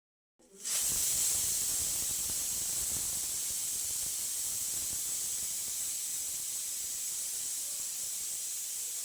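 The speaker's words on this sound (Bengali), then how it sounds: "পরপর 2টো সিটি দেওয়া হয়ে গেল।" A pressure cooker cooking masoor dal with red amaranth lets out a sudden, sustained steam whistle, a loud, steady high-pitched hiss that starts abruptly and holds without pause for several seconds.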